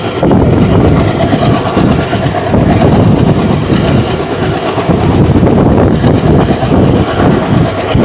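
Heard from on board, the Salem Yesvantpur Express unreserved train runs between Hosur and Yesvantpur with a loud, continuous rumble and rattle of wheels and carriages, with wind buffeting the microphone.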